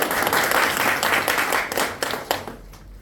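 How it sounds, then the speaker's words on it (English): Audience applause at a longevity medicine research talk, a dense burst of clapping from a crowd that holds strong for about two seconds, then thins into a few scattered claps and fades. "Let's give them a round of applause."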